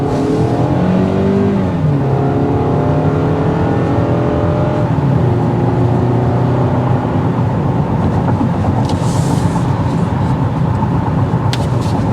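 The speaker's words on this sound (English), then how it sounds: "you will start hearing the noise of the engine. It's a 4-cylinder." A 2022 Toyota Camry SE with a 4-cylinder engine accelerates from inside the cabin, its note climbing through gear changes into a sustained loud drone with constant road rumble.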